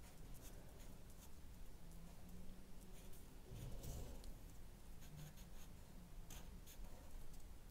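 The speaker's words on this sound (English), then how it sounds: "So then I write thing in fat letters." Marker pen writing the word 'thing' in thick letters on a paper bookmark, a soft continuous scratchy rubbing with small taps, close and quiet throughout.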